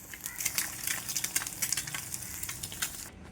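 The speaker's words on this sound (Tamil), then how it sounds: "சிம்பிளாக பிளெயின் ஆம்லெட் போட்டால் எல்லாத்துக்குமே பிடிக்கும் அதுதான் போட்டுட்ருக்கேன்" A plain omelette fries in a pan with a close, continuous sizzle full of crackling spatters, heard alone with no talking.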